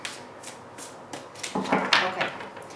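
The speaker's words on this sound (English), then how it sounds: "Alright, one more shuffle." Tarot cards riffled and shuffled by hand in a quiet room, a run of soft papery flutters and slaps that builds to a denser burst near the end, close and fairly quiet.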